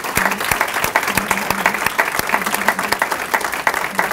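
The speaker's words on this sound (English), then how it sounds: "Let's give them another round of applause." An audience at a United Way kickoff event applauds the Concord High School Choir, with loud, close clapping in which individual sharp claps stand out above a fuller crowd of hands and faint murmuring.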